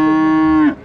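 A nine-month-old HF calf at a cattle market in Sangola gives a single loud, close moo that lasts under a second and cuts off abruptly.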